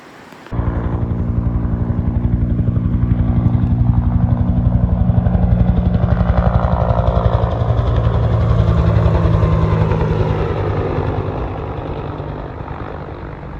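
A loud Forest Service firefighting helicopter's engine and rotor roar starts abruptly as it lands nearby and holds steady, easing slightly toward the end.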